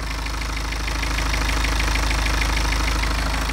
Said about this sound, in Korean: 일단 BMW만의 이 디젤 특유의 소리가 나는데요